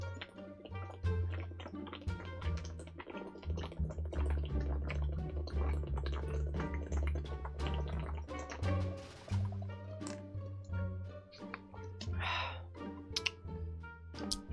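A man drinks water up close, with dense wet gulps, drips and small clicks running unevenly for about fifteen seconds and no speech.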